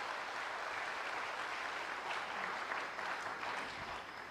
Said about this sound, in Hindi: अब जोर से तालियां बजाइए